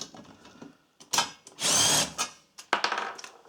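Wrench work loosening the nuts on a small engine's cylinder head, giving bursts of metallic ratcheting and scraping, one longer dense rasp in the middle, with short clicks and taps between, close up.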